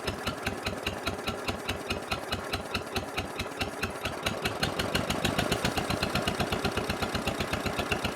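A 1950 John Deere Model M tractor engine idles at low RPM, its even putt-putt firing pulses loud and close and speeding up slightly toward the end, with no voices.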